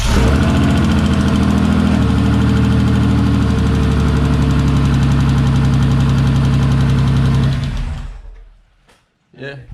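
A 500-horsepower Mitsubishi VR4 engine idles loudly and close after its first start, a rough, steady, knocking rumble that holds for several seconds and then cuts off into near silence.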